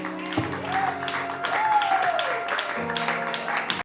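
Applause rises among a crowd at a wedding ceremony, a dense patter of clapping mixed with cheering and a voice calling out, steady and fairly loud throughout.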